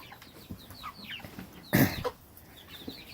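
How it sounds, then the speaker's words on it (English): A fairly large meat chicken in a backyard farm coop in the early morning, with faint clucks and chirps and a louder burst of squawking near the middle. "That's a pretty good sized chicken."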